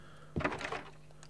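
A door being tried in Silent Hill 3, heard as a single short rattling clunk with a brief shuffle afterward, close and isolated against a faint background hum.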